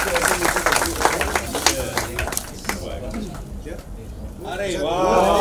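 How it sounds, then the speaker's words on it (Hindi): Loud applause from the audience at a teaser launch event for a Hindi comedy film, broad and noisy, fading somewhat before a voice and music come in near the end. "एक बार जोरदार ताली हो जाए।"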